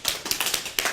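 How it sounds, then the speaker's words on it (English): Quick hand clapping during a yoga class, about eight sharp claps in a brisk, slightly uneven rhythm, close and clear with no talking. "What are we doing now? Clapping."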